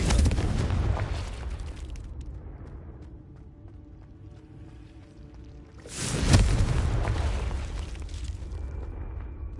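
A Confringo blasting spell detonates in Hogwarts Legacy, a loud booming burst at the start that rumbles away, then a second heavy blast around the six-second mark with a long fading tail and faint game ambience between them.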